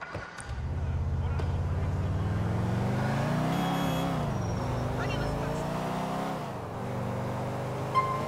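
A car engine from GTA IV drives steadily, with a sustained hum that rises and falls as the car speeds up and eases off. The sound is moderately close and runs continuously with no talk over it.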